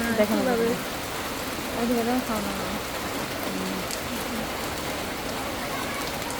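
Steady hiss of heavy rain falling in a village, with a few faint bird calls early on and no talking.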